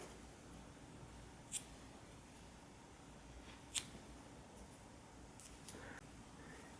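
Scissors snip the yarn tails on a handmade crochet owl: two sharp, quiet cuts a couple of seconds apart, close by, with faint rustling of yarn between them in an otherwise quiet room.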